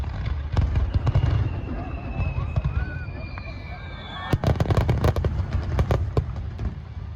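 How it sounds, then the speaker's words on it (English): Fireworks at a Japanese beach fireworks festival crack and boom in irregular bursts, with whistling rising launches and a dense flurry of sharp pops near the end, under a background of crowd noise and voices. "got to see my first Japanese beach fireworks festival"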